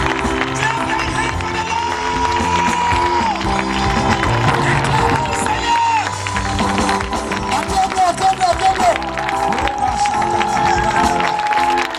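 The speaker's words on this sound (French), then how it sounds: "Acclame le Seigneur pendant 2 minutes" A church congregation loudly acclaims the Lord with sustained cheering, shouting and clapping, a dense crowd roar carrying voices throughout.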